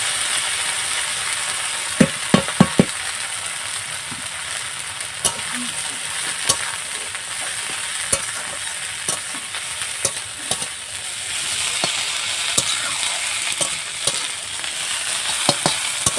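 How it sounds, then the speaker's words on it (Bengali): Mustard flowers and green chillies frying in hot oil, a continuous close sizzle under repeated scraping and clicking stirs of a spatula in the pan, with no talk. "এবার আমি এই যে সর্ষে ফুলগুলো আমি তেলের উপর দিয়ে দিচ্ছি।"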